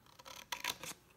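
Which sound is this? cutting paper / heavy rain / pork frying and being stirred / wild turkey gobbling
cutting paper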